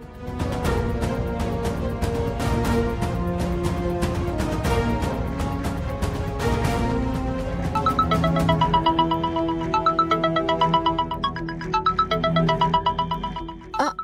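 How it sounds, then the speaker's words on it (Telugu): Incoming-call ringtone sounding steadily at moderate loudness over a busy musical bed in a TV drama scene, its repeating melodic pattern getting clearer and more distinct in the second half, with no talk. "ఆద్య, ఎవరో ఫోన్ చేస్తున్నారు."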